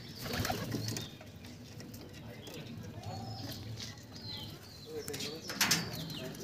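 Madras pigeons coo softly and repeatedly in a breeding loft, with low background murmur and rustling around them.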